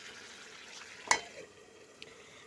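Food frying and being stirred in a pan at home, a soft continuous sizzle with one sharp clatter of the utensil partway through and a fainter knock near the end.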